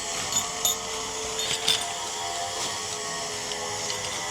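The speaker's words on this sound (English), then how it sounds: "Sorry about the noise, but they're doing construction." Construction work nearby with power tools gives a steady, fairly faint broadband whir that carries throughout. A few brief sharper bursts rise above it, and no one speaks.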